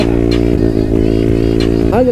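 Loud, close engine drone from a Honda Grom MSX 125 motorcycle while riding, holding a steady note with slight pitch dips and a brief rise near the end, with a voice talking over it.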